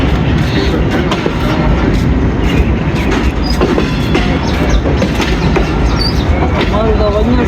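Loud, continuous rumble and clatter of a railcar in motion on the Lahore to Rawalpindi line near Ghungrila, with steady wheel clickety-clack and occasional squeals and horn-like tones close by, plus faint voices underneath.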